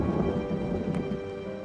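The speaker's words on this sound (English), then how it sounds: "Rain not only slows down Teoman's schedule, it also soaks an already wet building" Rain and thunder over an old, already wet Roman bath building, a dense continuous wash of heavy rainfall with a low rumbling undertone, steady and close throughout.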